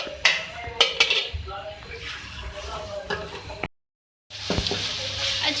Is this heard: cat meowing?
no